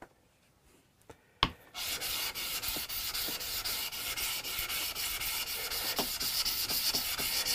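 Sharpening stones are flattened on a Shapton diamond lapping plate: after a quiet start and a couple of clicks, a close, steady gritty rasping grinds on continuously with faint rhythmic strokes.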